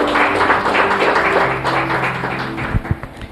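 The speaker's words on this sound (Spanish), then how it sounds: "Dale un aplauso al Señor." Congregation applauding during a church sermon, a steady wash of clapping at moderate loudness over low sustained tones, with a few sharper claps standing out near the end.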